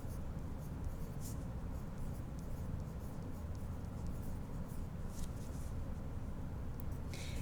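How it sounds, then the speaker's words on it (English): Pen or pencil writing notes by hand on paper, a soft continuous scratching that stays faint and steady throughout with no talking. "So let's go ahead and write that down."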